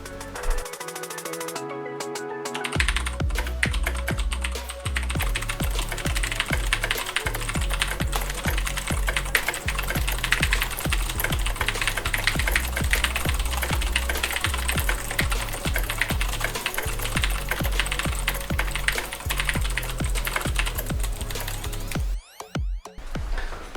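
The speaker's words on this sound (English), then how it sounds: "I am able to type using the home rule method while having a decent word per minute" Fingers type on a computer keyboard using the home row method, giving a steady, rapid stream of close key clicks that carries on for over twenty seconds with no one speaking.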